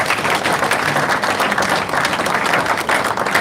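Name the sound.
crowd applauding at a rally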